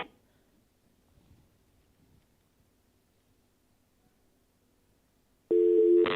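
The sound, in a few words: telephone call not answered, busy signal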